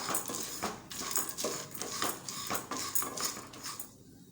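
Lentils and black peppercorns being dry-roasted in a pan, a spoon or spatula scraping and clinking against the metal in a steady, repeated rhythm, close and fairly loud with no voices.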